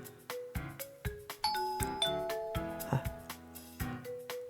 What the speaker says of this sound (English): the doorbell rings again before I have the chance to